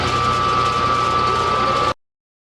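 A machine spins a steel workpiece while a radius is being machined into it, giving a steady, loud, close mechanical hum with a constant tonal whine that runs without talk and then stops abruptly near the end.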